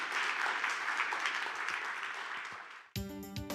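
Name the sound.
applause welcoming Dr. Kim Woong-seo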